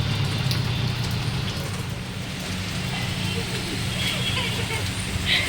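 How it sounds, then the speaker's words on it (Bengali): Heavy rain pours outdoors in Kolkata as a dense, steady wash of hiss, with a low rumble of passing road traffic underneath. A voice is heard over it. "যথেষ্ট ভালোই বৃষ্টি পড়ছে।"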